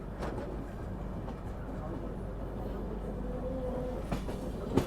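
Passenger train rolling over track crossings on the approach to Mathura Junction, a steady low rumble and rattle throughout with a brief squeal near the end and faint background voices.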